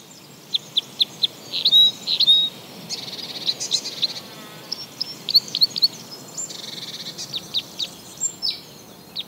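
Small birds call in an oak forest with short high chirps and twittering notes scattered over a faint constant insect-like hiss, at a moderate distance.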